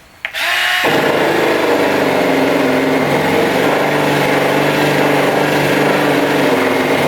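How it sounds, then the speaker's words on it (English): A fiber disc on a power grinder strips paint from a 1972 Dart trunk lid: a brief spin-up, then a steady high whine with a gritty grinding edge, loud and close, no talk. "The fiber disc does a good job too."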